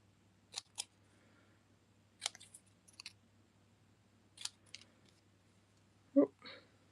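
Scissors make a few crisp, separate snips while banner-cutting card paper, with quiet pauses between the cuts and a brief soft voice sound near the end.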